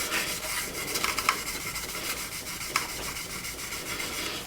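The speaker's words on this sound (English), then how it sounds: "what I'm doing now is polishing it with Tamiya coarse polishing compound at the moment." Steady rubbing and scrubbing as a plastic model kit of a Handley Page Hampden aircraft is polished with Tamiya coarse polishing compound, continuous and close, with a few sharper scuffs and no talking.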